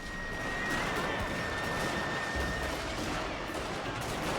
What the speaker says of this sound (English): they're literally just firing at like point blank range right now